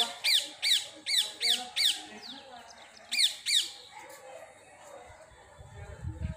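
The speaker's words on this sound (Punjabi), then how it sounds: "ਸਾਡੇ ਤੋਤੇ ਬਹੁਤ ਘੁੰਮਦੇ ਰਹਿੰਦੇ ਨੇ ਅਮਰੂਦਾਂ ਕਰਕੇ" Parrots near guava trees give a rapid series of sharp, shrill squawks in short bursts, a pause, then a few more, over quiet ambient noise.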